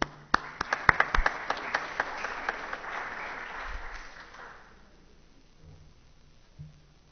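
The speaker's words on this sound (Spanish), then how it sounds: "Aquí lo recibimos con un fuerte aplauso." Applause from a technology conference audience: a few sharp, close claps at first, then thick clapping that swells and fades away by about five seconds, leaving near-silence with faint low thumps.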